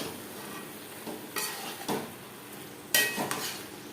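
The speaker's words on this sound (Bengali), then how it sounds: "শাকের সাথে চেরা কাঁচা লঙ্কা ও মাছের মাথা বেশ ভালো করে মিক্স করে দেবো।" Taro greens being stirred and mixed in a pan with a hilsa fish head and slit green chillies, giving a few scraping, soft sizzling stirs of the spatula at moderate loudness over a faint cooking hiss.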